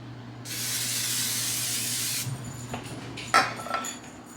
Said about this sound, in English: cook spray.